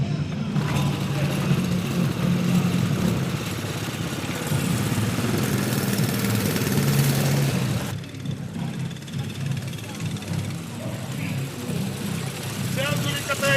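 Front-wheel-drive motor scooter with the engine mounted over the front wheel, running with a steady mid-pitched buzz that dips and returns, heard under a voice at an Estonian bike event.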